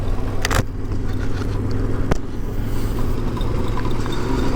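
A Yamaha Tenere 700 motorcycle riding along a road, a steady loud engine drone mixed with rushing wind noise, with a couple of brief ticks and knocks, no talking.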